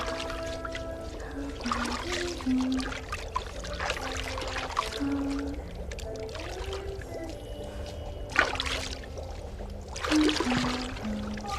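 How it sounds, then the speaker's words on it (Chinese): Water pours and trickles steadily as someone is rinsed, beneath a continuous tonal music bed, with a brief louder splash near the end. "姐姐给你冲水啊"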